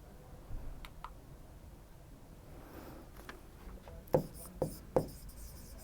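Values are written by hand on a board in a quiet classroom setting, giving faint scratchy strokes and light taps, ending with three sharper distinct knocks of the marker or chalk near the end.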